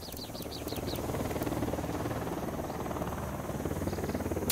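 A cartel supply helicopter in Ghost Recon Wildlands drones steadily at a distance, its rotor a continuous low rumble under faint chirping, with no talk over it.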